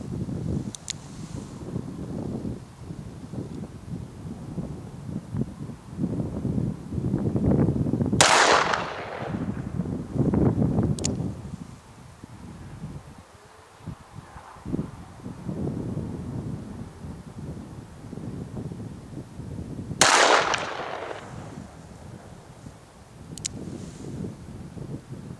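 Two sharp, loud shots from an S&W Model 27 revolver fired at a steel plate about 100 yards off in snowy winter country, spaced about twelve seconds apart, each echoing briefly over steady wind noise.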